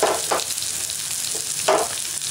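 Pumpkin pieces frying in a pan for a Tamil pumpkin chutney, a loud steady sizzle with a couple of stirring scrapes, close up and with no talking.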